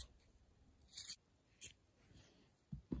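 Scissors cut a line through a shirt's fabric, a few faint close snips and crunches separated by quiet pauses.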